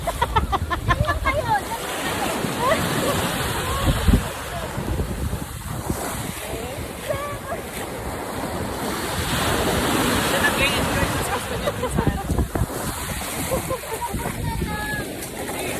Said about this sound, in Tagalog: Nakakatakot. Ang lakas ng alon.